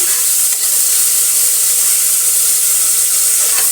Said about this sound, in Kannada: ಈಗ ಎರಡು ಟೊಮೆಟೊ ದಪ್ಪಕ್ಕಿರೋದು ಹಚ್ಚಿಟ್ಕೊಂಡಿರೋದನ್ನು ಹಾಕೋಣ ಇದನ್ನು ಚೆನ್ನಾಗಿ ಫ್ರೈ ಮಾಡ್ಕೊಳ್ಳೋಣ